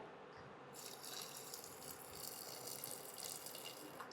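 Water is poured into a cooking pot during a whispered cooking session, a soft, steady splashing stream that runs faint and alone for several seconds.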